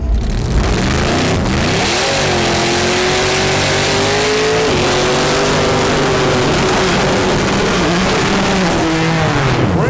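A 2007 Chevrolet Corvette race car with a 427 engine at a drag strip, loud and close, idling and then revving hard with rising and falling engine tone, roaring throughout.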